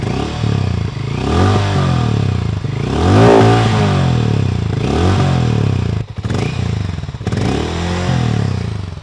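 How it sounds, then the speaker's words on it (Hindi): A Hero Mavrick 440 motorcycle's oil-cooled engine runs steadily at idle with a deep, throbbing exhaust note, loud and close, with a few revs rising and falling. "Let me just now start the bike and listen to it."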